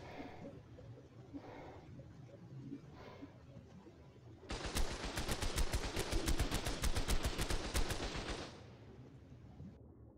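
Rapid automatic gunfire in the video game Ark, a dense burst of shots lasting several seconds after quieter ambient game sound, loud and close.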